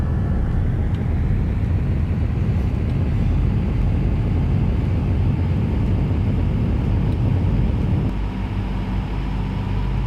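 A North American B-25 Mitchell bomber's engines at full takeoff power roar loud and continuously, a dense, droning rumble that holds steady and eases slightly near the end.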